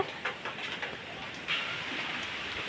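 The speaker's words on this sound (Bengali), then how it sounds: "দেখেন কি বাতাস, সাথে বৃষ্টিও পড়ছে।" Rain falling outdoors in a gusty storm, a steady broadband hiss with occasional heavier bursts of wind and drops, fairly close and moderately loud.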